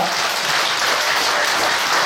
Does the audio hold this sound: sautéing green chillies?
no